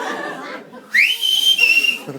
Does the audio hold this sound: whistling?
yes